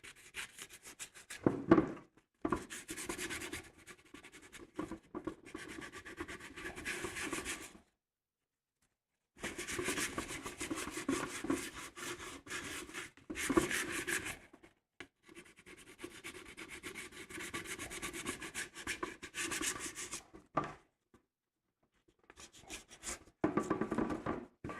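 Sandpaper rubbing across a resin-coated cosplay helmet in several bursts of scratchy strokes separated by short pauses, close and moderately loud with no talking.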